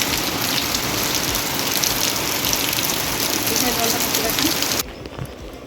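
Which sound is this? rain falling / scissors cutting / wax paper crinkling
rain falling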